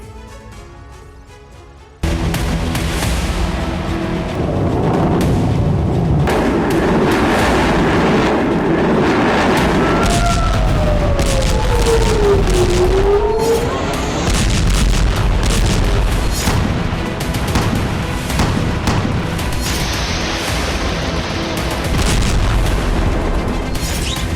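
Loud, heavy booms and roaring blasts from rockets exploding over Israeli cities near the Lebanon border, rumbling continuously with a sweeping whistle partway through, after a quieter opening.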